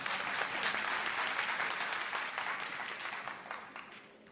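A crowd claps steadily for a few seconds, and the applause gradually fades toward the end.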